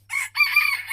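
An Olandsk dwarf rooster crows once, close and loud, a short broken call with a brief catch before the longer, sustained main note.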